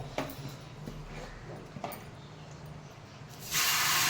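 Dalia batter for a vegetarian masala paratha drops into a hot pan and bursts into a loud, broad sizzling hiss near the end, after a few seconds of faint clatter and quiet kitchen background.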